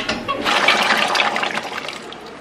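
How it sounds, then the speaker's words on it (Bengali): Spices, green chilli and bay leaf hit hot oil for a bottle gourd dal, giving a loud, close, sustained sizzling hiss. "এখানে তেল দিয়েছি, ফোড়ন দিচ্ছি, কাঁচা লঙ্কা, তেজপাতা আর দেব 5 ফোড়ন।"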